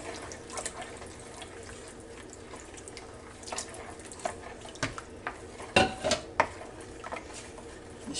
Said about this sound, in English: Stir that just a few seconds.